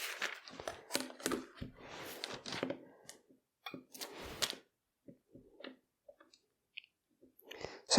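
Rotary cutter slicing through a greeting card against a ruler, a series of short, close, crisp cutting strokes and clicks in bursts, separated by quiet pauses.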